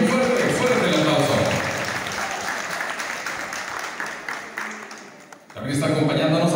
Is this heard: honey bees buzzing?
no